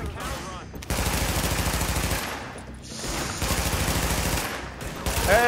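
Dense, continuous gunfire in The Division video game, rapid automatic bursts with brief lulls, loud and close throughout.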